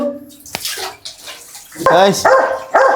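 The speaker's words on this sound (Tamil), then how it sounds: "சுப்பிரமணிய டேங்க்ல தண்ணி விட்டாச்சு" Water pours into a tank outdoors at a home zoo setup, a splashing, gushing rush that swells loudly in bursts, with a dog barking nearby and voices around it.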